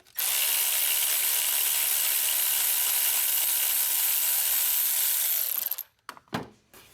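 A tool on bolts of the thermostat housing of a 2013 Chevy Cruze 1.8L makes a steady, loud, bright whirring-ratcheting run for nearly six seconds, then stops, followed by a few brief clinks and rattles.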